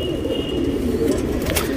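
A tournament racing pigeon coos in a low, murmuring run close by, over steady background noise with no voices.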